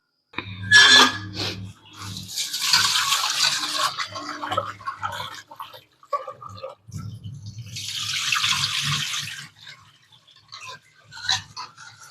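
Split moong dal is washed by hand in water. Two bouts of close swishing and splashing are heard, with lighter dripping and handling noises between them.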